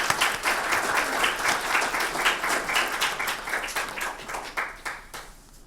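Audience at a 2016 medical Grand Rounds lecture applauding as the speaker comes to the podium: dense, even clapping from a room full of people that slowly fades toward the end.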